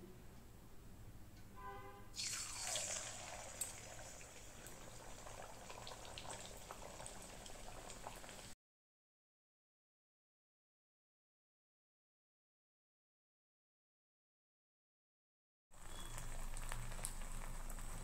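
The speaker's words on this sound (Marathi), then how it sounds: "तेल मी आधीच गरम करायला ठेवलं होतं, आता मी पुऱ्या तळून घेते" Fasting-style puris fry in hot oil, a loud, steady bubbling sizzle that begins after about two seconds, cuts out abruptly midway, then returns near the end.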